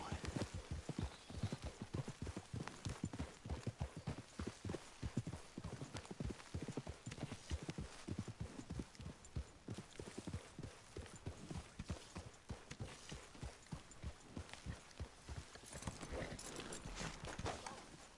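Rapid, steady clip-clop of horse hooves at a trot in the video game Red Dead Redemption 2, loud and close, with a faint whinny near the end.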